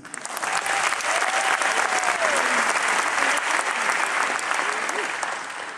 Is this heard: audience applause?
yes